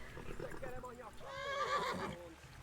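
A horse in the medieval video game Kingdom Come: Deliverance whinnies in a rising, wavering call, with soft hoof clatter and background game noise around it.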